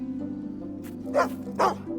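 A dog in the Fable video game gives two close, sharp barks in quick succession over a steady low game hum, with a softer yip or two before them.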